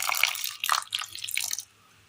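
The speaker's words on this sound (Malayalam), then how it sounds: "പൊടിയിലേക്ക് ഒരല്പം വെള്ളം കൂടി ഒഴിച്ചു കൊടുക്കാം" Water poured into a powder mix for a Kerala dish makes a close, trickling splash in short bursts for about a second and a half, then stops.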